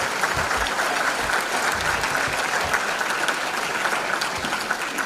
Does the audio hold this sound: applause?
yes